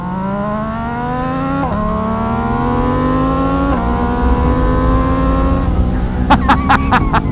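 An MV Agusta Brutale Dragster 800 RC naked bike with an SC-Project exhaust accelerates hard through first gear, its rising engine note climbing steadily with brief dips at each shift, close and loud, ending in sharp crackles and pops.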